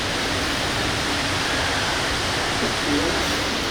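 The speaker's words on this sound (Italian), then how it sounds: "ovviamente sentirete un fiume in sottofondo" A steady, broadband rush of flowing river water fills the whole stretch, constant and fairly loud, with no voices over it.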